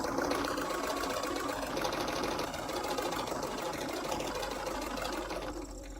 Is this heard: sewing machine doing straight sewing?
yes